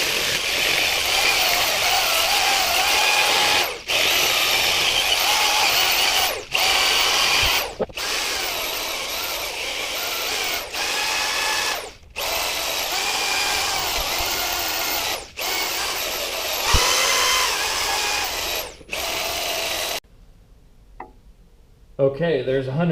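A power sander with 100 grit works a natural edge wooden bowl, whining loudly and close in runs of several seconds broken by short stops, then falling nearly silent at the end.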